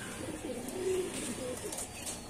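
A racing pigeon cooing softly at a club training loft in Morong, Rizal, a few low, warbling coos heard faintly over a steady outdoor background.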